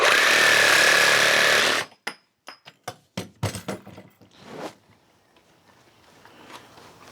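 A reciprocating saw (Sawzall) buzzes loudly through pipe for about two seconds, then stops, followed by a scatter of clanks, knocks and handling noises as the cut pipe is moved.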